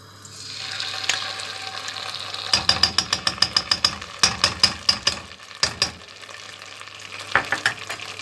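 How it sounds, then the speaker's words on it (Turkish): Tomato paste sautés in a pot on the stove, giving a soft sizzle broken by a quick run of sharp clicks and taps as it is stirred, close and fairly loud with no voices. "Şöyle bir bir iki dakika kavuralım salçayı."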